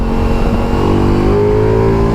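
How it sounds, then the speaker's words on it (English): A Ducati Multistrada motorcycle in sport mode accelerating hard, its exhaust giving a loud, continuous mid-range engine roar that rises steadily in pitch through the revs, close and without talking. "that exhaust's at a fair bit of mid-range"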